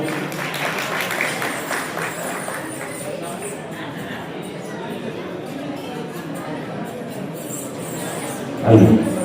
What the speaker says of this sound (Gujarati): એમનું સન્માન થયું છે તાળીઓથી વધાવજો